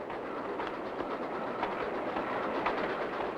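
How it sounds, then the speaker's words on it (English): A period narrow-gauge steam train running on the Durango–Silverton railway in Colorado, its steady rumble and faint clickety-clack rolling continuously at moderate distance, with a few bird calls on top. "We picked this narrow-gauge railway because it was a period train that was actually operating."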